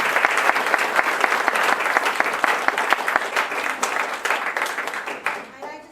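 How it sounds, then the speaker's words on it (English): An audience applauding an honored district director, dense, lively clapping that holds steady and then begins to thin and fade near the end. "Give her a round of applause."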